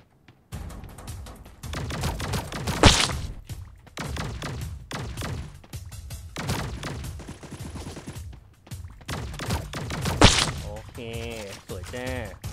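Rapid laser machine gun bursts and sharp laser sniper shots fire in the video game Sausage Man, loud and close in repeated volleys with brief pauses, plus a few bright electronic zaps.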